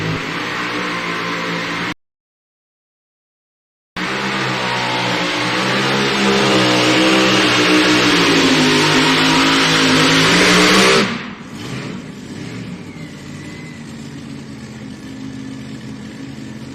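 A light modified pulling vehicle at a truck and tractor pull roars loud and close, its engine climbing steadily in pitch through a long full-throttle run before cutting off and fading into a softer, distant drone; no talk.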